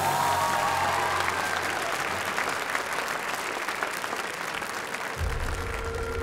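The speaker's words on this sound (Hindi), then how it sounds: "तालियां।" Steady audience applause following a dance performance at a competition show, continuous dense clapping filling the whole stretch, with a low musical tone coming in toward the end.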